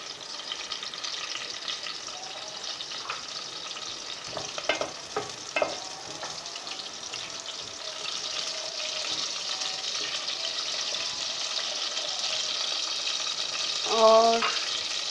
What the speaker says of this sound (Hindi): 1 कप मैंने ऑयल लिया, उसके अंदर ये प्याज शामिल करेंगे हम। इनको थोड़ा सा हम चलाएंगे,